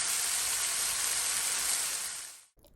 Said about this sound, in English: we're gonna cook this for about 2 to 3 minutes, just until the veggies cook down